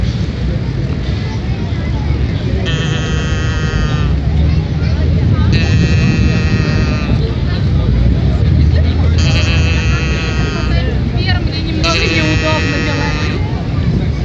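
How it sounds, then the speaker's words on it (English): A mooing cow sound device sounds in repeated bursts at a busy Times Square street protest, the lowing calls rising over loud crowd and traffic noise with people talking throughout. "One such is the mooing cow."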